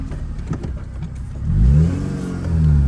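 A K24-swapped Acura RSX pulls hard in first gear, its engine note rising in a loud, steady climb after a quieter idle-like stretch, close and continuous with no talk.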